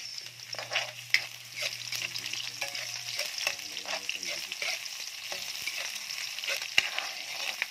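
Onions fry in a pan with garlic for Bicol Express, a bright continuous sizzle with crackling pops and light stirring scrapes, close and steady without talk.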